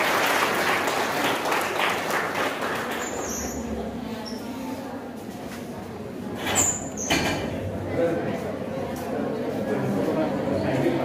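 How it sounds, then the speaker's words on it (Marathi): An audience at a lecture hall applauds, a broad wash of many hands clapping that swells at the start, dips, then rises again, with voices chattering underneath. "तुम्ही सगळ्यांनी टाळ्या वाजवून स्वतःचं स्वागत करावं"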